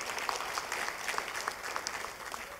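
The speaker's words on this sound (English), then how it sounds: "So I think they deserve a round of applause." A church congregation at a Sunday morning service claps in a round of applause, a steady patter of many hands heard from a moderate distance, with no voices over it.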